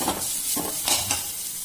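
Onions fry in a pan with a dense, continuous sizzle close by, broken by several soft stirring scrapes in a loose rhythm.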